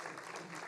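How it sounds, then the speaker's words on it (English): A packed conference hall audience breaks into applause to welcome a panel at a startup conclave, a dense, steady wash of clapping that stays fairly faint and even throughout the short burst. "Let's welcome our panel with a huge round of applause, ladies and gentlemen."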